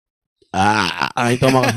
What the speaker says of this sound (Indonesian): Itulah kau sendawa itu tadi